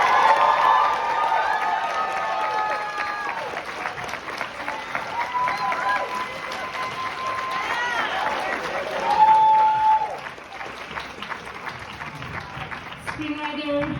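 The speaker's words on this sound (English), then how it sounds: "Please, let's keep the cheer going." A crowd at a film event applauds and cheers steadily throughout, with scattered shouts and whoops rising briefly toward a louder peak, while people speak over the noise.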